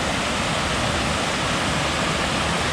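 Tad Kham waterfall in Ban Phaeng, Nakhon Phanom, roars as a loud, unbroken rush of falling water, heard close up and steady with no voices.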